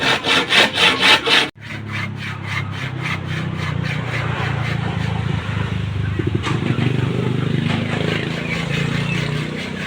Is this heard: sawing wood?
yes